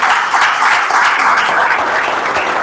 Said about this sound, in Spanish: Yo que usted hubiese aplaudido ahí